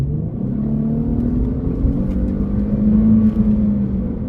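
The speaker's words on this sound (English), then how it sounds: "It sounds good though for a stock exhaust." Car engine with a stock exhaust and muffler delete, heard from inside during a drive on a long straight road, a steady loud drone that swells into a stronger rev near the end, with no talk.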